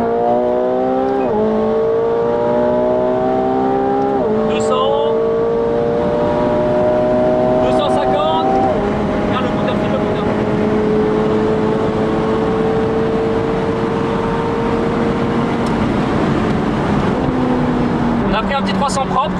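A McLaren 720S engine roars at sustained high speed on the Autobahn, around 300 km/h, pitch rising through gear shifts, loud and close from inside the car.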